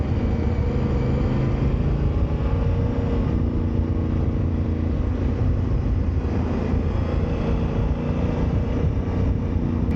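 Honda Africa Twin motorcycle riding a winter road in Europe, a steady, loud engine drone blended with rushing wind that holds constant and unbroken throughout, with no talking.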